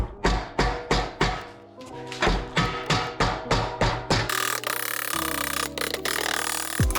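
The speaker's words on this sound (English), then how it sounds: "Put your cardboard up against it, and because everything is nice and sharp, just take a hammer." Steady rhythmic hammer taps on cardboard held against aluminum car frame metal, about a dozen sharp, ringing blows in quick succession, followed by a louder grinding, buzzing tool noise.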